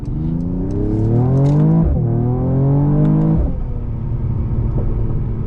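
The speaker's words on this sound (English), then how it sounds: "You never realize how much pops and cackles you have until you actually push this car." A 2021 Mercedes-Benz E53 AMG engine revs up and drops off twice with a loud, sweeping exhaust note, then settles into a steady idle rumble.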